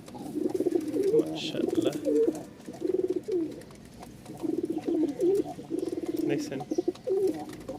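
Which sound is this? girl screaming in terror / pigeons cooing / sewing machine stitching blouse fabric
pigeons cooing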